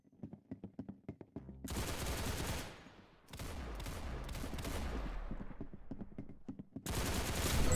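Rapid bursts of automatic gunfire from the Roblox shooter Arsenal, opening with a string of separate sharp shots, then long loud sustained volleys broken by brief pauses.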